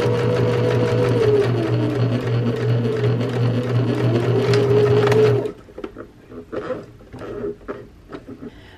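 A sewing machine stitches steadily at a regular stitch length while back stitching, a loud continuous motor hum for about five seconds before stopping abruptly, followed by quieter handling clicks.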